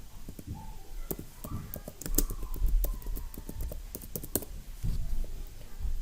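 Quick, irregular keystrokes on a computer keyboard as a description is typed, crisp clicks in short bursts at close range with no talking.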